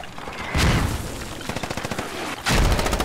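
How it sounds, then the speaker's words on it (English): Bursts of automatic gunfire from the video game Squad come in heavy, close volleys, with a rapid rattling stretch of shots between two loud blasts. "They're shooting on left"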